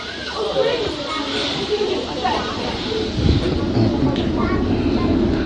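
Steady rumble and hiss of a train carriage in motion, heard from inside, with a brief low thump near the middle and speech-like murmur over the continuous running noise.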